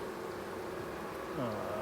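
Honey bees buzzing during a hive inspection, a faint, steady drone throughout with a soft rising and falling whine near the end, quiet and slightly distant.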